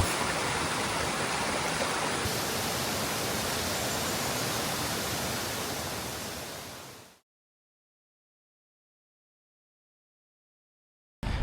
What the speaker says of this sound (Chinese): 所以你只能近距离的站到瀑布的前面来看，看浪花。